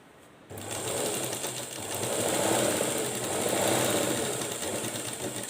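A sewing machine stitches a blouse sleeve border, starting abruptly and then running in a steady close whirring rattle that rises and falls slightly in speed for several seconds.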